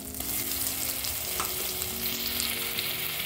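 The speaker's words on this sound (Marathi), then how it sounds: "हे मिश्रण थोडं तेल सुटेपर्यंत भाजू द्या व्यवस्थित" A masala mixture for palak paneer fries in oil in a pan, giving a steady, close sizzle with light stirring scrapes throughout.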